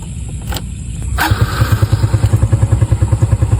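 A motorcycle engine idles and then revs into a steady, rhythmic putter, loud and close, with a couple of sharp clicks near the start.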